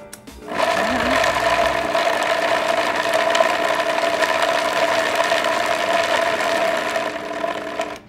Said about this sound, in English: We're just gonna put that into the Vitamix. We're gonna start on low.